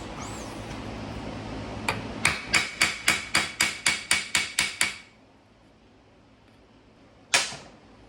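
Eleven sharp, evenly spaced metallic hammer blows ring out in a quick steady rhythm as a rivet is set in blacksmith work, then a pause and one final strike.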